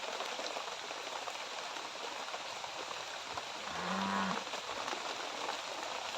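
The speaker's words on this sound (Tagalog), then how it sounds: "umuulan na talaga dito ng malakas eh." Heavy rain pours down steadily in an even, dense hiss, with a brief low tonal moo-like call rising partway through and no speech.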